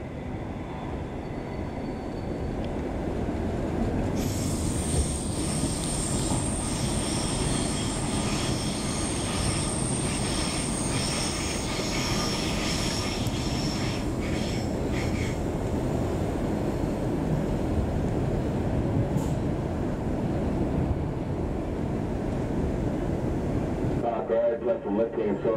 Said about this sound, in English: This is a Cleveland train, stopping at all stations.